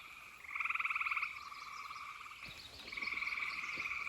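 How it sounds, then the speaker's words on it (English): Tree frogs croak after a heavy rain, rising in two rapid trilling bouts with a quieter chorus between them, faint and somewhat distant against an outdoor background. "After a good, healthy rain, tree frogs go"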